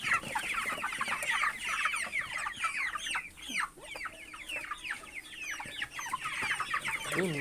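Pet chickens cluck and chatter continuously in their coop, many overlapping calls close by, busy and unbroken throughout.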